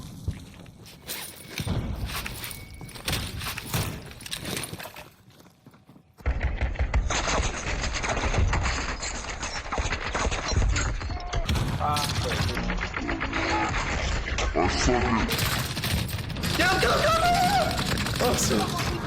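Rapid bursts of gunfire in the video game Warzone, loud and dense, with a quieter stretch early on and then sustained shooting under voice chat.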